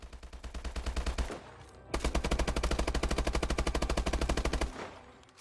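Hipfire from the Obsidian Steed and Insanity guns in a video game: two loud, sustained automatic bursts of evenly spaced rapid shots, separated by a brief pause, with no talking.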